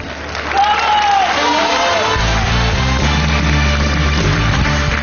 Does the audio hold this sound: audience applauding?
yes